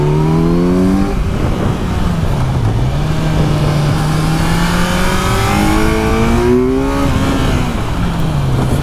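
A 2017 Kawasaki Z900 motorcycle engine revs hard during a power wheelie going downhill, a loud, close, continuous roar that rises and falls in pitch through gear changes.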